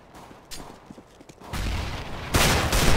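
Gunshots in a video game shooter, a few sharp cracks early and then two loud sustained bursts of fire toward the end, with no talking.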